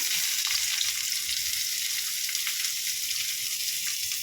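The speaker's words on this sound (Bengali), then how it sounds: "পেঁয়াজটা আমি ভেজে নেবো লাল লাল করে।" Onions frying in a pan with dried red chillies and tempering spices for a prawn and banana-flower curry, a steady close hiss and sizzle that holds at even loudness throughout, with faint stirring, no voices.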